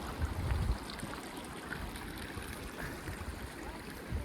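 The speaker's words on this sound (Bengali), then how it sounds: "এ দেখো এখানে জল আছে, আবার ওয়াটার ক্রসিং" Quiet, steady rush of a mountain stream at a road water crossing in Spiti Valley, a continuous faint flowing wash with a soft low rumble near the start.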